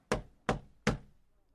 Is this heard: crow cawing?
no